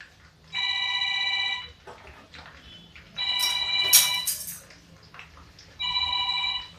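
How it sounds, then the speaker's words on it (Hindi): A telephone rings in a home kitchen while porridge is being cooked, three separate bursts of a loud electronic ringtone with quiet gaps between them. "एक्चुअली क्या है कि फ़ोन आ गया था बेटे का"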